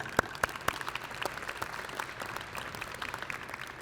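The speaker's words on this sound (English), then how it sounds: "Please show them a round of applause." Applause from an audience at a spring senior breakfast in an arena, steady clapping with a few sharp claps near the start, moderately distant, then tapering slightly.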